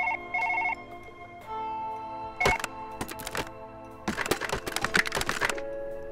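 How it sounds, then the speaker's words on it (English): In the surgery video game Surgeon Simulator 2013, a desk telephone rings with short tonal bursts. Sharp clattering knocks and thuds of objects follow, with no talk. "Oh, I got a phone call."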